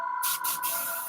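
An airbrush-style spray gun sprays clearcoat paint in a sharp, steady hiss that starts abruptly and runs close and loud, with two brief dips in flow and a constant whine of air beneath.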